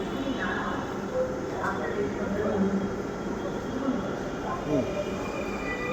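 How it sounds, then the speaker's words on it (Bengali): A Kolkata metro train pulls away from a station with a steady rumble and squealing wheels, moderately loud, while people talk faintly nearby. "এই মেট্রো চলে গেল,"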